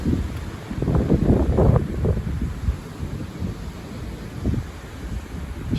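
Strong gusts of wind during storm Eowyn buffet the microphone in rough, uneven roars, loudest early on and then easing into a steadier rush with further bursts.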